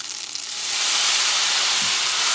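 Ribeye steak sizzles loudly in a pan of hot butter, a close, steady hiss that swells after a brief quieter start and holds without pause.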